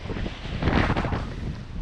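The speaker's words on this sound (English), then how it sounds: "Very windy, but still beautiful." Strong wind on the Scottish coast buffets the microphone in loud, rough gusts, a continuous roaring rumble with no other clear sounds.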